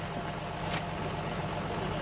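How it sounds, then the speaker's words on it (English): A car engine idles low and steady in the horror game Amnesia: Amadeus, a continuous rumbling hum with a faint knocking texture and one brief hiss partway through. "There's a car in here."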